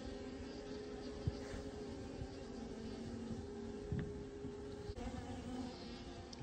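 A steady, droning hum of many bees buzzing together around a small nucleus hive, close and continuous, with a few individual insects passing nearby.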